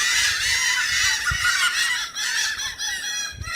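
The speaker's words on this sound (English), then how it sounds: "The seagulls are having a party." Seagulls gather near a seaside boardwalk, calling over and over in a noisy flock with harsh, honking cries that overlap continuously and close by.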